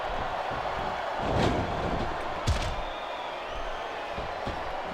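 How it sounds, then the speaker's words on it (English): A large indoor wrestling arena crowd in the video game SmackDown vs. Raw 2007 roars in a constant wash of noise, swelling briefly, with a sharp thud partway through. "Sounds like this crowd's got something on their mind, King."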